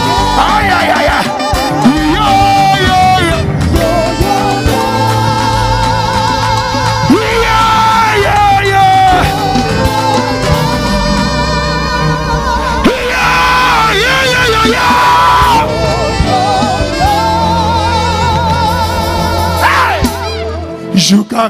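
A church congregation at a thanksgiving service yelling and shouting praise over loud music, a continuous dense wall of raised voices and whoops that stays loud from start to end.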